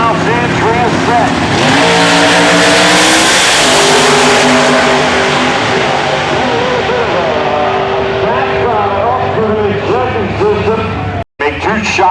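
Drag racing cars at the 2004 IHRA finals in Rockingham, North Carolina, launching down the strip: a loud, sustained roar of high-revving engines that builds and sweeps, with an announcer talking over it and a brief dropout near the end.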